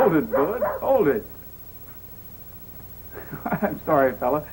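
A dog in a 1951 ranch-country television western whimpers and yips in reaction to a dog whistle. Several short whines come in two clusters, close and fairly loud, with a quiet gap between them.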